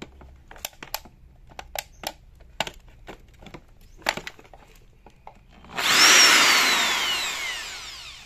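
A Bosch power drill, part of a drill set with toolbox, whirs up loud and steady after a series of sharp clicks and knocks, its motor running on and slowly fading.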